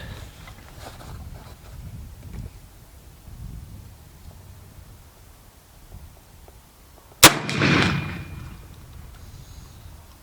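A single sharp gunshot from an 1873 model rifle at outdoor target practice cracks loudly after several seconds of quiet, followed by a long rolling echo that fades away.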